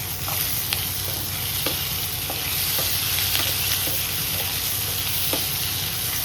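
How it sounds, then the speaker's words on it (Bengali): Capsicum and tomato fry in a hot pan for a Chinese-style catla fish dish, giving a continuous steady sizzle with occasional light clicks as a utensil stirs the vegetables. "এই একটা টমেটো এর মধ্যে দিয়ে দিই।"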